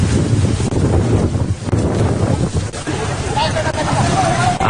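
Strong wind buffeting a microphone outdoors during a house fire in Selayar, South Sulawesi, a loud continuous rumbling roar with gusty surges throughout.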